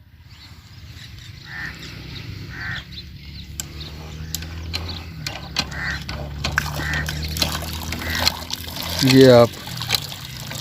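Creaking, clanking strokes of a hand pump being worked in the Cholistan desert, with water gushing and splashing out, under ongoing talk in Hindi-Urdu.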